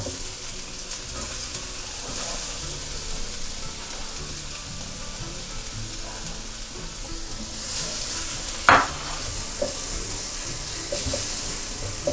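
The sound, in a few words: garlic and red chili stir-frying in oil in a wok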